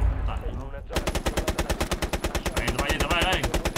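Rapid automatic gunfire in a video game shootout, a quick loud burst of evenly spaced shots rattling continuously for several seconds after a brief quieter moment at the start.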